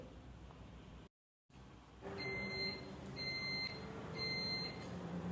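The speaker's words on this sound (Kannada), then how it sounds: "ಎಲೆಕ್ಟ್ರಿಕ್ ಕುಕ್ಕರ್ ಬೀಪ್ ಸಹ ಆಯಿತು ರೆಡಿಯಾಗಿದೆ ಅಂತ" An electric cooker beeps three times in an even rhythm, clear high-pitched electronic tones over a low background hum, after a brief gap of silence.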